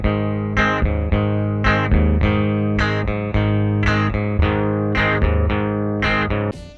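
Swamp ash electric guitar with a full, woody tone, rhythmic picked chords repeating in a steady pattern, strong and close, no voices.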